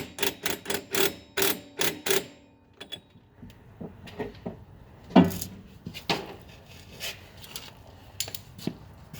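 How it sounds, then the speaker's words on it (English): A nut is fitted onto the threaded stem of a shock absorber on a Ford Ranger, heard as a close run of quick metallic clicks and small clanks, then scattered taps and rattles of the parts being handled. "Then you put the nut on."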